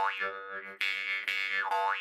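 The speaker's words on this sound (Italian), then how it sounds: "Il marranzano è uno strumento che appartiene alla famiglia degli idiofoni" A Sicilian marranzano jaw harp twangs with a bright, buzzing tone whose pitch wavers and bends in a continuous wah-like pattern, close and alone.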